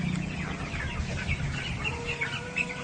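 Broiler chickens on a commercial meat-poultry farm cluck continuously in a dense, busy flock chorus, steady and fairly close, with no talk.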